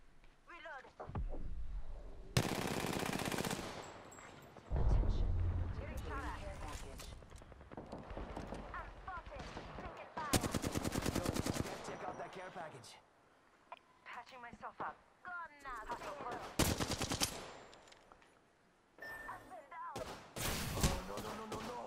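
Gunfire in a video game: several loud, sharp volleys break out at intervals between quieter stretches, with a voice talking through much of it.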